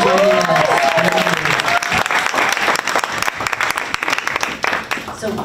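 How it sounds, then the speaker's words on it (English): Audience applause at a campus lunch-and-learn event, a dense sustained clatter of many hands filling the room, with voices talking over it at the start. "Give yourselves a round of applause."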